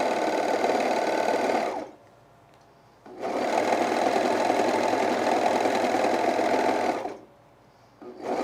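A sewing machine stitching a fleece pullover, running in two steady, fast buzzing bursts separated by a short pause, close and loud, with no talk.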